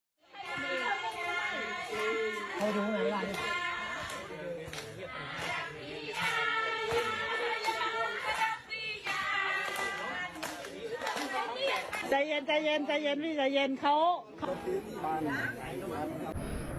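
About thirty Cambodian tourists at the Prasat Ta Kwai temple sing a traditional group song while clapping along in a steady beat. The voices and claps are close and fairly loud and carry on almost without pause.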